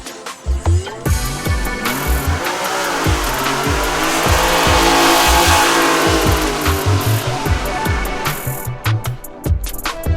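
A Maserati Formula One car with a 2.5-litre straight-six engine runs loud and close, its rough idle rising into sustained revving and then dropping back to bursts of throttle.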